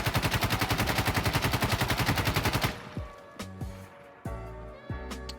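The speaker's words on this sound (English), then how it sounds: "So let's go ahead and run the recoil test. So this is the L85A2 with a foregrip." An L85A2 rifle fitted with a foregrip firing on full auto in Insurgency Sandstorm, a rapid, loud, even burst of shots that cuts off into a handful of echoing single reports and clinks.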